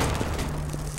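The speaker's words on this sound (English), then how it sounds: "Grenade out! Throwing a grenade!" A grenade goes off in Counter-Strike: Global Offensive as a short, heavy boom with a low rumbling tail that stays loud and close for about a second, with no talking.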